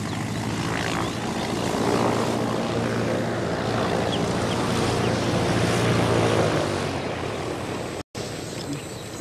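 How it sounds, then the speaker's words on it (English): A propeller mail plane flies overhead in a remote area, a steady loud droning hum that swells slightly and then eases before a brief dropout near the end. "Today, this aeroplane will land at 14 properties, delivering mail, papers,"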